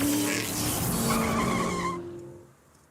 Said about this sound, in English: My biggest note right here is the tire squeal. I feel like the tire squeal did come in a little late.